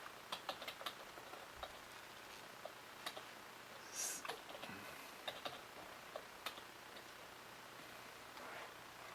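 Quiet, scattered keystrokes tap on a computer keyboard in irregular bursts, some clustered, some single clicks, faint and close.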